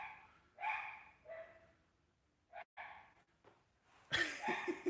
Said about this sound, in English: The dogs barking, or is it sort of being muffled by the distance?